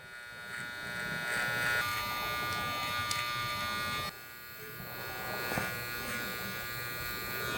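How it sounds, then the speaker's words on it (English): Electric hair clippers fitted with a size 5 clipper comb buzz steadily while detailing a haircut, close and fairly quiet, with a brief pause and change in pitch partway through. "So I'm going from my big 45 kind of clipper comb to the size 5, which is nice to detail with."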